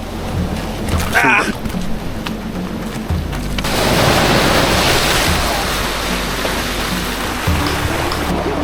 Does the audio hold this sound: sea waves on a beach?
yes